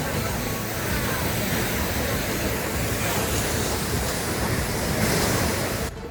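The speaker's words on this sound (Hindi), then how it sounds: "पीछे जो वाटरफॉल का पानी है, इसकी जो छींटे हैं वो चेहरे को छू रही हैं" Kapil Dhara waterfall on the Narmada at Amarkantak pours with a loud, close, continuous roaring rush that holds steady throughout.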